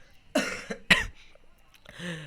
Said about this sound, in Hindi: बोलते बोलते तो मुझे खांसी भी आ रही है